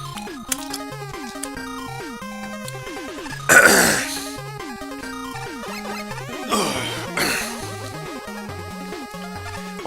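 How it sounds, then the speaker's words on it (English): A person coughs and clears their throat twice, in short sharp bursts close to the microphone, over steady chiptune music from a Mega Man Maker game session. "Just got a cough in my throat there."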